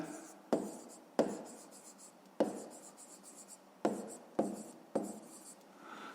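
A pen writes on paper while working a fifth-grade math problem, making quiet, close scratching strokes in about six bursts, each starting with a light tap and then fading.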